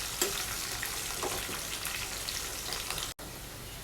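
Spices and curry leaves fry in a hot pan for a munagaku fry, a dense, continuous crackling sizzle with light stirring scrapes, close and steady before a brief drop near the end.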